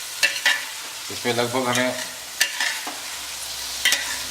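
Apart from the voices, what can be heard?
onions frying and being stirred in a kadai for mutton korma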